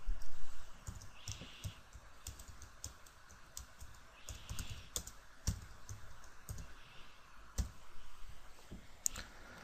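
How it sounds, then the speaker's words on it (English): Irregular clicking of keys being typed on a computer keyboard, close and fairly quiet, with short bursts and pauses and no voices. "I'll type in some simple text."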